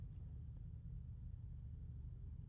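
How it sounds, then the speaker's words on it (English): A truck engine idling outside, a faint, steady low rumble heard from a distance through walls, continuous and even with no voices. "I was just waiting for that truck to stop idling"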